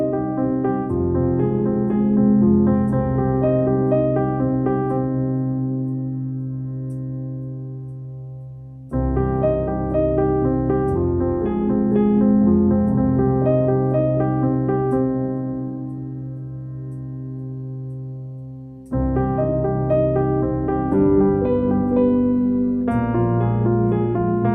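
A piece from Game of Thrones in an intermediate arrangement, played on a sustained keyboard with steady melodic phrases over a held low accompaniment, continuous and clear, with brief breaks between sections.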